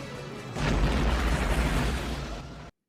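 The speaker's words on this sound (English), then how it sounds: "Heck of an explosion" A large explosion from the film Waterworld roars as a dense, sustained boom that swells suddenly and rumbles loudly for about two seconds before cutting off abruptly.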